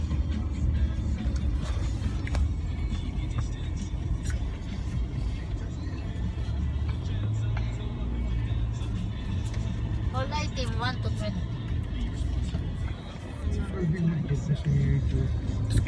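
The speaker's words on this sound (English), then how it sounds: "Dad's just driving the car." Low, steady engine rumble and road noise inside a moving car, continuous throughout, with people talking over it.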